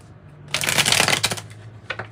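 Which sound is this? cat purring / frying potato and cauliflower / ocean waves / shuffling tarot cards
shuffling tarot cards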